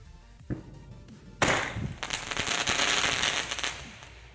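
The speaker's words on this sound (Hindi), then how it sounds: "अब जलाते हैं चोरी चोरी स्काई शॉट को।" A Chori Chori sky shot firework cracker is lit for Diwali testing: a sharp crack, then a loud whooshing, crackling launch that sizzles on for a few seconds, fairly close outdoors with no voices.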